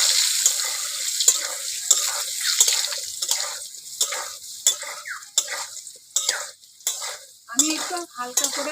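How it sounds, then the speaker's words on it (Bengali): Large chunks of potato with salt and turmeric fry in oil for a crab curry, giving a steady sizzle broken by repeated scraping stirs, with no voices over it. "আলুটা ভেজে নিচ্ছি"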